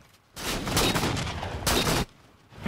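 Gunfire in a multiplayer shooter game rings out in two bursts of rapid shots, the first longer and the second short, at moderate loudness with brief quiet gaps between.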